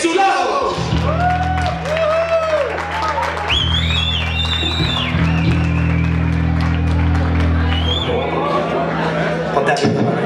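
A concert crowd applauding and cheering for an urban rock band, clapping and whoops swelling under a sustained music drone and an announcer's voice, loud and lively throughout.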